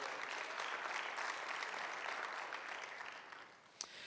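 A church congregation claps together during a Spanish-language sermon, a fairly quiet, dense wash of applause that fades slightly toward the end, punctuated by one sharp louder clap.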